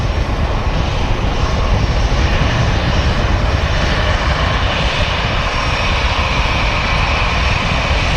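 An EasyJet airliner taxis quickly off a rapid exit taxiway at Manchester Airport, its jet engines a loud, steady, broadband roar that stays close and even throughout.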